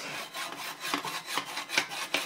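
Hacksaw cutting through FSA bicycle cranks, a quick series of rough rasping back-and-forth strokes, close and moderately loud with no voices.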